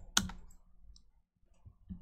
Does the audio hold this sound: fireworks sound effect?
no